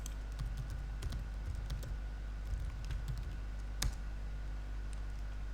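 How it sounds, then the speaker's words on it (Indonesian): Computer keyboard typing during an online class session, a steady run of light clicks with a few louder keystrokes over a low background hum, fairly close and with no talking. "linknya saya ketikkan sebentar di kolom chat."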